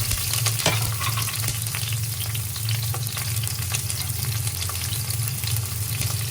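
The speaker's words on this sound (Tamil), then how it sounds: "இப்போ எண்ணெய் நல்லா ஹீட் ஆகிடுது இப்போ சில்லியை போட போகிறோம்" Chillies frying in hot oil for a Sri Lankan black mussel dish, a steady close crackling sizzle with a low constant hum underneath and no talking throughout.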